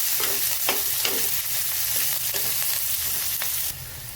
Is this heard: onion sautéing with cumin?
yes